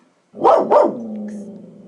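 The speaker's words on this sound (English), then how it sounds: "Excuse my dog." A pet dog lets out two quick, loud barks close by, followed by a lower lingering growl-like tail as the room settles; no one speaks.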